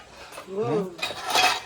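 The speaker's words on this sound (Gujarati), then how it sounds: "ગાઈસ વાસણ ધોવાય છે." Dishes and utensils being washed, with metal clinking and clattering close by for a brief moment and a voice heard faintly.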